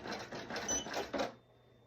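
Embroidery machine stitching a patch onto fabric: a quick, rapid mechanical clatter of needle strokes at moderate level, running steadily for over a second before stopping abruptly, leaving a faint hum.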